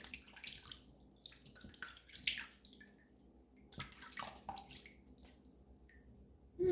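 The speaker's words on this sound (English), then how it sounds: "Let's give a little bit of a rinse and see how we did here." Running water splashes in uneven bursts as a face and razor are rinsed during a wet shave, close and moderately loud, with short gaps of quiet between splashes.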